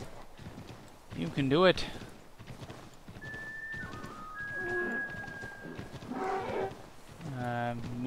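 A horse in the Assassin's Creed 3 video game whinnies shrilly and its hooves clop rapidly, mixed with game effects and a voice talking over it.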